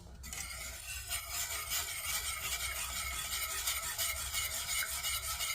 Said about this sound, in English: if it gets too thick in some areas, just whisk it away